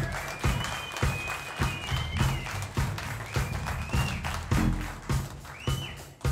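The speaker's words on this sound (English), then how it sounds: "give yourself a big wonderful round of applause for keeping the radio station alive" An audience claps at a live blues show by Lucky Peterson in 2016, a dense, steady wash of applause with regularly spaced louder claps and a thin high tone running over it.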